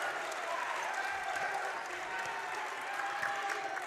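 Gym crowd at a high school boys basketball game cheers and applauds after a left-handed layup, a steady loud roar of clapping and voices sustained for several seconds.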